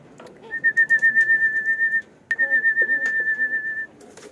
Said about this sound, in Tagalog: Ayan, mga kalapatids, may pauwi sila Boss Mike.